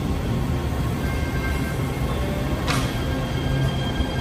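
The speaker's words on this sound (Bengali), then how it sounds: "এই ট্রেন চলে গেল" A train pulling away from a Los Angeles metro station, a steady low rumble of rolling stock with a brief squeal midway, moderately close and without talk.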